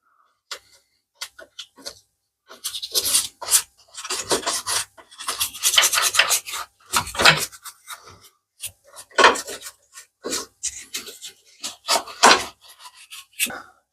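Rusty car bodywork being hand-sanded, with repeated rasping strokes in irregular bursts, close and fairly loud, alone with no talk.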